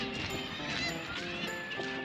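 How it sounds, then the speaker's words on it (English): Hundreds of seagulls nesting in the cliffs by the marina at Seaham give a dense, continuous chorus of overlapping honking cries, steady and fairly loud throughout. "As you can hear, there's hundreds of seagulls nesting in the cliffs of the marina here."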